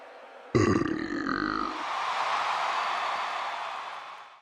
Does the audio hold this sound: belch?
yes